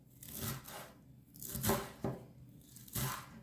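Fresh dill being chopped into large pieces with a knife: a handful of crisp, rustling cuts in separate bursts, close and moderately quiet, with no talk.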